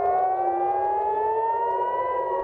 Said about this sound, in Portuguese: Sirenes foram ouvidas em Tel Aviv